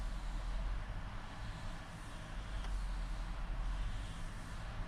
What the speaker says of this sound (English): Idle is fluctuating